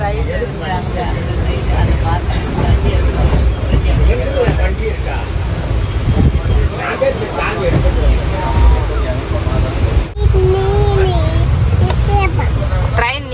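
A running train gives a continuous rumbling roar throughout, with people talking over it nearly the whole time.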